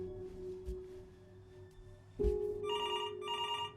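A telephone rings in the video game Before Your Eyes. A steady tone gives way to two bursts of an electric bell ring near the end, with no talking.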